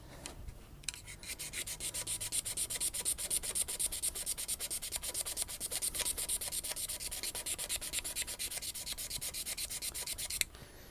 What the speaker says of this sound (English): if I keep scraping away, I might be able to lose that